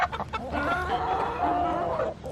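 A flock of chickens with young roosters clucking and squawking together, a busy, continuous close-up chorus of overlapping calls.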